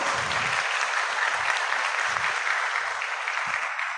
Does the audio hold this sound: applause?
yes